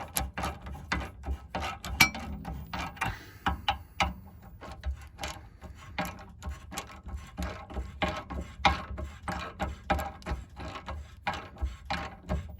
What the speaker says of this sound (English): I think it's a 13mm ratchet first, just get it started.